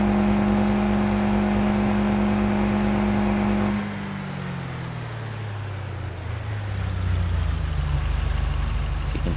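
Truck engine in a farming video game labouring under a trailer loaded with hay bales, a steady loud drone whose pitch sags and drops midway as the load bogs it down, then rumbles on low and heavy.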